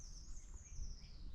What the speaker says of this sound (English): Yeah, it's a treecreeper.